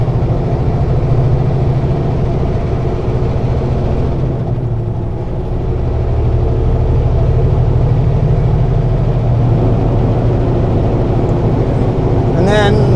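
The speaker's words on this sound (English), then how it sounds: "shut up and let us just listen to the engine" A truck engine runs steadily inside the cab at a lumber mill, a loud continuous low rumble with a brief dip in level midway and a short high hiss near the end.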